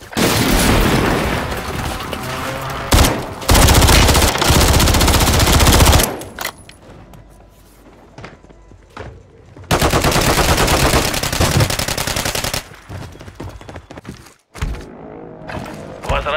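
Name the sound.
gunfire in video game Call of Duty Warzone 3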